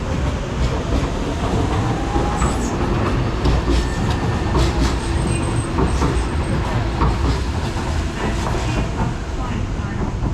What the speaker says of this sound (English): heading out now is going to be a DLR going to Woolwich Arsenal from Stratford International.